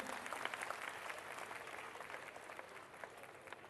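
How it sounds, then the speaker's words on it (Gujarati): Audience applause for the cast of a Gujarati devotional stage drama, steady dense clapping from a crowd throughout, fairly distant and moderate in level. "તમામને માટે તાળીઓ થઈ જાય"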